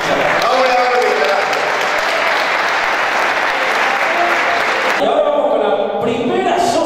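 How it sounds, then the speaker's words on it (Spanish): Loud, sustained applause from a crowd at an 80th anniversary celebration of a sports club, dense clapping filling the room with voices talking through it before it thins out near the end. "Fuerte el aplauso para Elvia Didi Cabrera."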